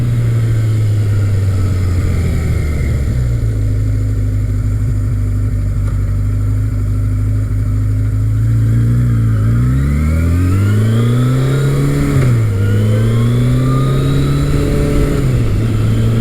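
A big-bore Kawasaki KZ1000 or Suzuki GS1100 motorcycle engine runs loud and close, its steady drone rising and falling in pitch as it accelerates and shifts through gears, with no talk.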